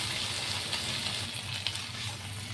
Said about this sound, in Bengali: এবার আমি জল দিয়ে দিচ্ছি। সবজি সমান সমান জল দেবো